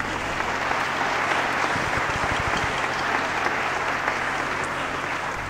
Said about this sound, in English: Give yourself a hand clap for it.